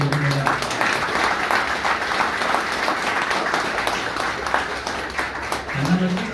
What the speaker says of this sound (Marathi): तर हा टाळ्यांचा कडकडाट जो आहे हा कोटी कोटी